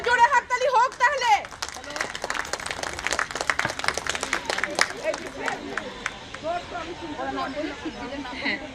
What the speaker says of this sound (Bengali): একটা জোরে হাততালি হোক তাহলে